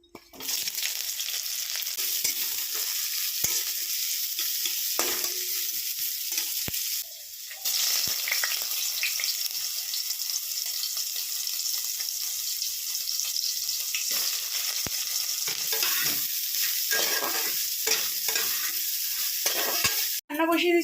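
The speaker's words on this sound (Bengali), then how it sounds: "একদিকে পেঁয়াজ আর শুকনো লঙ্কা ভাজা হচ্ছে" Onion and dried red chilli fry in a pan for a lentil tempering, producing a loud continuous close sizzle that runs nearly unbroken for the whole stretch, with occasional faint clinks and no talk.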